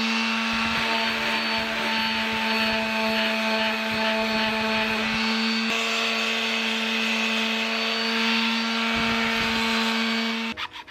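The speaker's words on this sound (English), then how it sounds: "it's pretty easy just to hit it with the palm sander and 60 grit sandpaper" A palm sander with 60 grit sandpaper works over a heavy Mandalorian helmet, a steady high buzzing whine with a loud tonal hum that holds close for about ten seconds, then cuts off.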